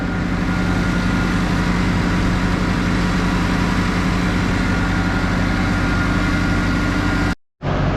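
A tractor-driven feeder runs steadily off the tractor's shaft, close by, with a constant low engine hum and mechanical drone that cuts out briefly near the end.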